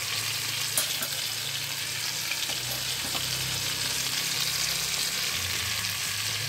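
Turmeric and cumin powders fry in hot oil in a pan for a Bengali stuffed patol dish, giving a steady, close sizzle with light stirring scrapes throughout.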